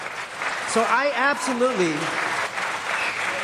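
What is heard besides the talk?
applause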